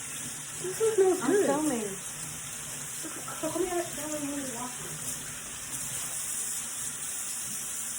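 Hands being washed under a running kitchen tap, a steady broad hiss of flowing water throughout, with someone talking over the first half.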